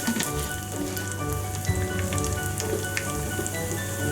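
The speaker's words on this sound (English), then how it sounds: "Let it fry nicely." Curry leaves and a dried red chili frying in hot oil for taro root curry, a steady close crackling sizzle with scattered small pops, alone and unbroken.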